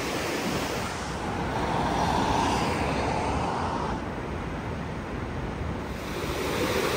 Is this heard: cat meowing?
no